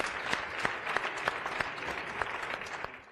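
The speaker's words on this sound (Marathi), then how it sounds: "त्या टाळ्या वाजवून शुभेच्छा देऊया" Scattered studio audience clapping on a Marathi TV game show set, fairly quiet, with a handful of distinct individual claps standing out over a softer wash, easing off at the very end.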